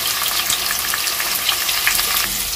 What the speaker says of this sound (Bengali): এবারে আমি পটল ভেজে নেওয়ার তেলের মধ্যে আলুর টুকরোগুলো একটু ভেজে নেব।